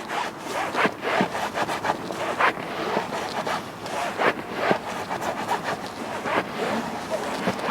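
Towel rubbing and wiping a leather car seat dry, a steady run of close, scratchy swishing strokes in an irregular rhythm, with no talking.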